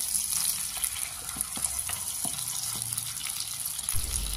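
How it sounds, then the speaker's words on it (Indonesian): Anchovies and spices frying in a pan, a steady bright sizzle with soft scraping and clinks of a spatula as they are stirred, close and continuous. "Kita masukkan dulu teri dan bumbunya. Aduk-aduk sebentar agar berbau harum."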